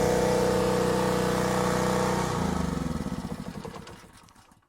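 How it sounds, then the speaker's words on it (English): A Harbor Freight Predator generator with a 212cc gasoline engine runs at a steady loud drone, then the pitch drops and the engine sputters and winds down to silence after it is switched off. "Our generator started up"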